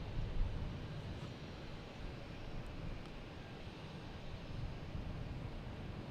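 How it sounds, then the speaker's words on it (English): A Delta Airbus A330 lining up on runway 4 right at Logan Airport rumbles as a steady, distant low engine drone, broad and continuous with some wind-like noise. "So the Delta heading to Paris, and A330 is lining up on 4 right for takeoff."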